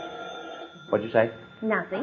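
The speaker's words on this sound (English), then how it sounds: "That was the phone bell." A telephone bell rings in an old-time radio drama, a soft ringing tone heard briefly before voices start talking over it.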